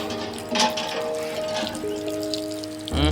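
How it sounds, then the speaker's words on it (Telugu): Water gushing from a government-installed hand borewell pump in a rural tribal village, a steady splashing flow with a louder surge near the end. "ఇది హ్యాండ్ బోరు చూసారా నీటిని కొట్టి చూద్దాం ఒకసారి ఫ్రెష్గా"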